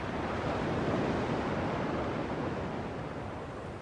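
Ocean surf on a beach in Kingdom Hearts 2 Final Mix, a continuous broad wash of waves with a slight swell and fade, steady and fairly loud with no voices.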